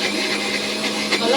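A mixer grinder blends masala paste with a steady, loud motorized whir, continuous and unbroken for a brief moment.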